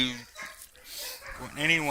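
Several pet dogs howl and whine together indoors after someone leaves the house, their drawn-out wavering cries rising and falling close by, with a voice speaking in between.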